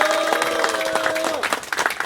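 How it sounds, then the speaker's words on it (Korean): An audience claps steadily at a June commemoration ceremony in Suwon after a song performance, with a lingering sustained tone fading beneath the applause. "다시 한번 큰 박수 부탁드릴게요"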